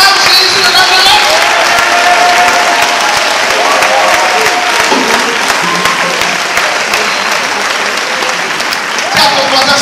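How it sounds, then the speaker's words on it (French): A church congregation in Côte d'Ivoire applauds loudly and continuously, acclaiming the Lord with dense clapping and crowd voices throughout. "On acclame le Seigneur pour elle."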